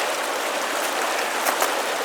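A mountain stream rushes steadily at a trail crossing in the Pecos Wilderness, a close, continuous broadband wash of flowing water with no voices.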